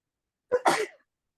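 A single sneeze during an English class, a short two-part burst, sharp and fairly close, followed by silence.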